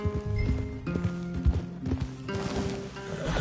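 Horses in Red Dead Redemption 2 clip-clop at a steady walking pace, close and fairly loud, with a whinny among the hoofbeats and game music humming underneath.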